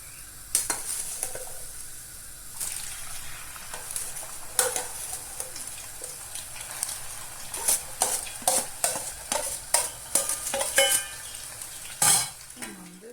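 Potatoes frying in a pan for an omelette sizzle steadily while a utensil stirs them, scraping and clinking against the pan in irregular bursts, close and fairly loud.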